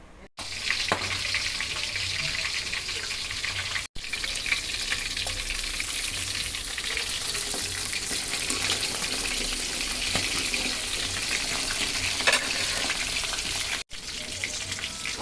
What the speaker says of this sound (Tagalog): Magpiprito na tayo ng bangus.